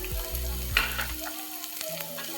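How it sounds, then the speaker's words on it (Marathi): Cabbage, carrot, spring onion and capsicum with pepper sautéing in a pan for veg Manchurian, a close steady sizzle with stirring scrapes and a low hum that cuts out midway. "हे चांगलं परतून घेऊ."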